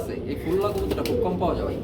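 A pair of large pigeons at a market stall cooing softly and steadily, close by, under people's talk.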